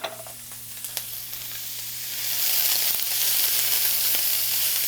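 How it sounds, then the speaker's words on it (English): Chopped onions, carrots, celery and garlic sizzle in a hot pan, starting with a few light clicks and then swelling into a steady, loud hiss about halfway through, close and continuous, with no talking. "We want to cook this until the onions are translucent and the carrots and celery just start to cook through a little bit"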